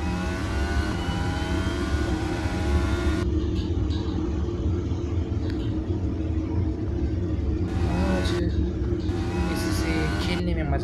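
A remote control car drives in a video game, its engine giving a steady, loud rumbling drone that rises with revving, running continuously over game background sound.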